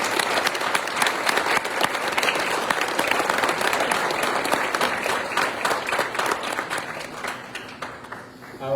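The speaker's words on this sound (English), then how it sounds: "So a round of applause for everyone in this wonderful supportive community." Sustained applause from the audience at an Olympic Wall induction ceremony, a dense wash of many hands clapping loudly and steadily, thinning slightly toward the end.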